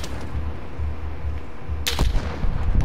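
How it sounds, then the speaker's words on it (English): Sniper gunfire in the Warzone video game: a sharp, loud crack around the two-second mark, followed by a few fainter impacts over a steady low rumble of in-game ambience. "I'm getting shot from a sniper."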